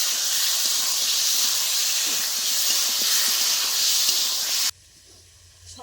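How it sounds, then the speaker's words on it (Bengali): Tilapia curry spices with ground cumin being sautéed over a wood fire, a loud steady hiss of sizzling oil that cuts off abruptly near the end, leaving quieter background noise. "জিরে বাটা, সব মশলাগুলো ভালো করে কষিয়ে নেব।"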